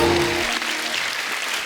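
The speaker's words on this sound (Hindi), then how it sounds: "खैर आलिया के लिए जोरदार तालियां" Studio audience applause on a Hindi TV comedy show comes as a brief, dense burst of clapping, loud and even, with a short musical tone at the start.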